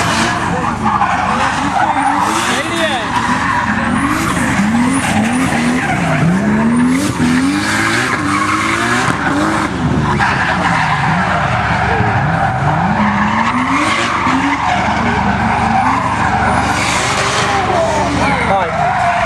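Cars drifting at the 2011 Devon Car Show, loud continuous tire skidding and squeal with revving engines rising and falling throughout, close and sustained, with crowd voices underneath.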